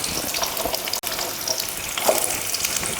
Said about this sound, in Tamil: ஃபஸ்ட்டு எண்ணெய் காஞ்சதுமே வெங்காயம் சேர்த்துக்கலாம்.